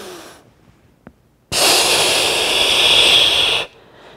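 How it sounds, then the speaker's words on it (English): A single deep, loud breath during a bo staff exercise, a sustained rushing inhale of about two seconds, close and alone after a brief pause. "Take a deep breath in."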